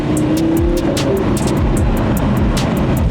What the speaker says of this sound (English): Pop, pop, bang.